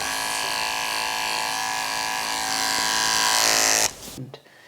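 Electric dog hair clippers with freshly sharpened steel blades hum steadily at close range, a loud continuous buzz that cuts off near the end.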